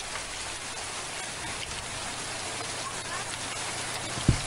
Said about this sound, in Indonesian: hujan deras turun tidak hanya disertai angin kencang, namun juga terjadi fenomena hujan es